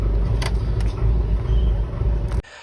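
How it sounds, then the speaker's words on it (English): A 1967 Porsche engine idles steadily, a close, continuous low rumble that runs for over two seconds and then cuts off abruptly near the end, with no talk over it. "let's check it now while it's running"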